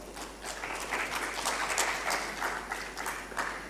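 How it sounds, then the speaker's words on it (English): Conference audience applauding a shield presentation in a hall, a steady wash of many hands clapping at moderate level for nearly four seconds with no talk over it. "So a big round of applause for him."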